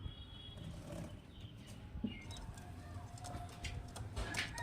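Kalshira and Highflyer pigeons cooing softly in a loft, low murmuring coos mixed with faint background chatter and distant bird sounds.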